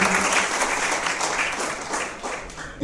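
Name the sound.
audience applause welcoming a guest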